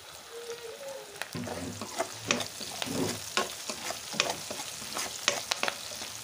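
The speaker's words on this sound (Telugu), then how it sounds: "ఇలా ఉల్లిగడ్డలు, వెల్లిపాయలు, కరివేపాకు అయితే ఆయిల్లో కొంచెం మంచిగా వేగే వరకు వేడి చేయాలి" Onions, garlic and curry leaves frying in hot oil for a Kerala-style prawn roast, with a steady broadband sizzle and repeated sharp clinks and scrapes of a spoon stirring the pan, close and alone.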